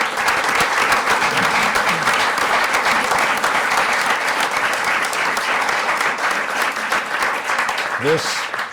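Crowd applause at a Nebraska bill signing by the governor, sustained loud clapping filling the room with some cheering and voices mixed in.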